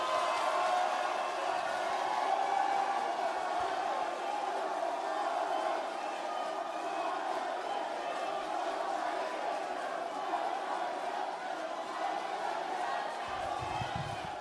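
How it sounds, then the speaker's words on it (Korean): A crowd at a party leadership rally in Daegu applauds and cheers to welcome a candidate, a continuous broad roar of clapping and voices held at a steady level for about fourteen seconds. "뜨거운 박수로 맞이해 주십시오"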